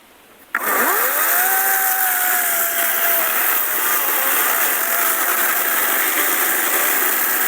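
A cordless chainsaw starts abruptly after a quiet moment and cuts into a dry branch, its loud, steady high-pitched whine dipping slightly as the chain bites into the wood.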